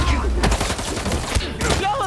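Thugs fire guns in Spider-Man 2, a quick volley of loud, close shots with thumping impacts layered over busy game action.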